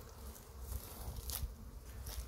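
Hornets buzz around beehives in an apiary, a low, steady insect drone with a few louder passes close by, heard alone without talk.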